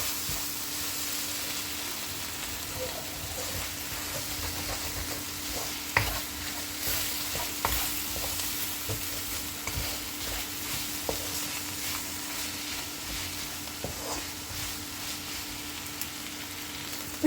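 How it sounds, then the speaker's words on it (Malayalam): Kerala-style mussel roast being stirred and dried out in a pan, a continuous soft sizzle under frequent scraping strokes and occasional sharper knocks of the spoon against the pan. "ഇത് ഞാനിനി ഒന്ന് ഇളക്കി ഡ്രൈ ആക്കി എടുക്കുക എന്നുള്ളത് തന്നെയാണ്"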